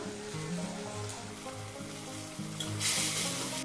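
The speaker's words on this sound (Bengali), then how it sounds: "যতক্ষণ না তেল ছাড়ছে এটা একটু ভালো করে কষে নিতে হবে" Spice masala fries in oil for a rohu fish curry, making a soft, continuous sizzle under background music, with a brief louder hiss of stirring near the end and no talking.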